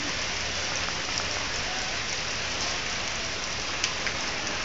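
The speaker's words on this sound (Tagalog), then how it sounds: "Dito yung umulan ng yelo." Hail pelting down on a surface in the Philippines or Japan, a dense, steady hiss of countless small impacts across the whole stretch with a few sharper ticks standing out, no voices over it.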